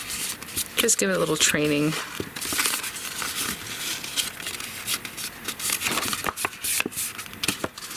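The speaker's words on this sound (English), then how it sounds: "I'm just going to fold it right now." Paper pieces of an LDRS Creative Christmas Concertina 3D card kit being folded and creased, giving close, continuous crinkling and scraping rustles with short sharper crackles, while someone briefly speaks over them near the start.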